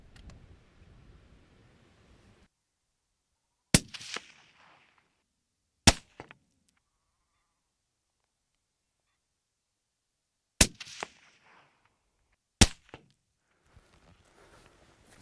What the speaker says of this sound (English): we're going to take a shot out at 200 yards so you can see the bullet drop